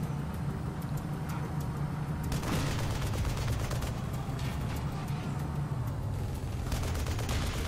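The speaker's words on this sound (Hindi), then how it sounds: "ये देखो चौड़ा होके रॉकेट पे रॉकेट फेंके जा रहा है।" Rockets fired in a battle in the shooter Frontlines: Fuel of War on a graveyard map, heard as repeated sharp bursts and blasts over a constant low engine-like rumble, all fairly faint and continuous throughout.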